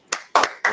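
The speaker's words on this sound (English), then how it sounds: "let's clap it up one more time" A group clapping in three sharp, loud hand claps at an uneven pace during a class, close by, with no voices.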